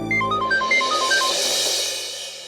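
A mobile phone ringtone in a Hindi TV drama scene, a loud, bright electronic melody of quick repeating notes that rings alone and then fades out.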